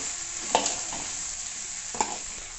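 Tomato pieces fry in a pan with a steady soft sizzle, broken by two brief scraping stirs of a utensil.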